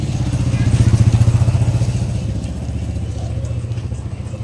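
A motorcycle engine idles and revs close by after a breakfast run with a young daughter, its steady throbbing putter heard alone, strongest early and then settling to an even idle.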